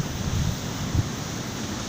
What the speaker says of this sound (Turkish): Deniz oldukça dalgalı.